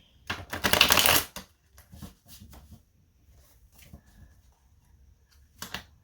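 A deck of tarot cards is shuffled close by in one loud riffling burst, followed by quieter scattered card handling and a final short shuffle.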